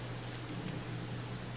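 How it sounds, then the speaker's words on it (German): Steady rain falls in the Splinter Cell video game, an even, moderately quiet hiss of downpour with a low hum beneath and no other sounds. "Ach, wie schön es regnet."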